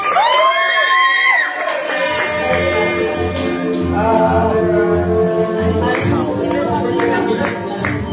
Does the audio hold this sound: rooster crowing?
no